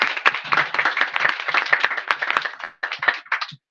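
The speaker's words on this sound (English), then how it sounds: "give us kind of a round of applause for a comment, please" Audience at a library book-giveaway event clapping steadily for about three seconds, then a short second burst of applause before it stops.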